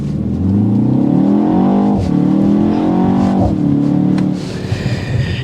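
A BMW X1 M35i with a twin-scroll turbo accelerates hard under boost, its engine note rising loud and close through several gear pulls with brief dips between shifts.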